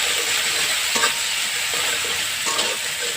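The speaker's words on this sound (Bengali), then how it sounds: "তো আমি দিয়ে দিচ্ছি 1 চামচ রসুন বাটা। এটা একটু ভাজা ভাজা করে নিচ্ছি।" A spoonful of garlic paste fries in a pan for a potato curry, a loud, continuous hiss broken by brief scraping stirs, with no talking.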